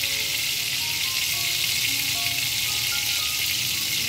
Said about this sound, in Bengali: তেলের মধ্যে দিয়ে দেবো একটুখানি ঘি।